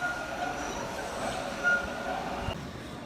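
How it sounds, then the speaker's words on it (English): Subway train arriving around a curve in a tunnel in Boston, heard as a steady rumbling roar with faint wheel squeal and a brief clunk, moderately close, with no talking. "You can see it coming around the curve. There is the train."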